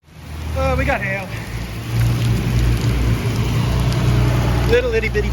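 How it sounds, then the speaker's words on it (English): Pea-sized hail clatters steadily on a car during a Texas supercell storm chase, a dense continuous rattle that swells after the first seconds, with voices briefly heard at the start and end. "Little itty bitty pea-sized hail."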